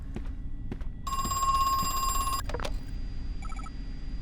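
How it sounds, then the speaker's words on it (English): A telephone rings inside the horror game Crow Country, a steady electronic bell tone lasting about a second and a half, clear and loud over low background game ambience. "Calling me on the phone again"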